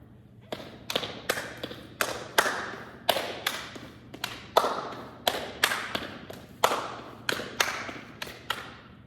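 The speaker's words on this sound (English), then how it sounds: "Step, slap, clap." Patting juba body percussion repeats a step, slap, clap pattern in a steady, galloping rhythm, with foot thuds, slaps on the body and crisp hand claps recorded up close; about twenty sharp hits spread evenly, with no talk over them.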